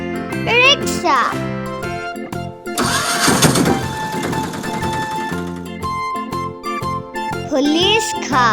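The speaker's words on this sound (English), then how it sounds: "Rickshaw." Rickshaw engine starting with a sputter and then rattling steadily at mid pitch for a few seconds, with a voice and a cheerful musical jingle before and after.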